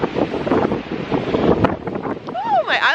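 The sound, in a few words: strong wind on the microphone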